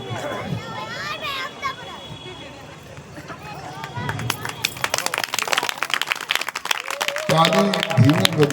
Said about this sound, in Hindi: ताली धीमी बजी